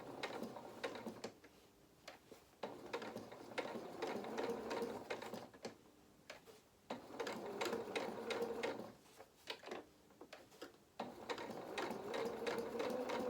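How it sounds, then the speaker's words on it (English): A sewing machine stitches a curved edge of doll fabric, its motor whirring in steady runs with short pauses between bursts as the seam changes direction, close and fairly quiet. "I'm following my drawn line with the edge of my presser foot"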